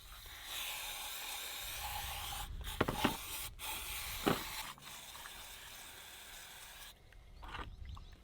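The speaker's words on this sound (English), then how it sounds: "I just clean this with brake cleaner" Brake cleaner sprays from an aerosol can onto a rusty CV joint, giving a soft, close hiss in short bursts with brief gaps between them.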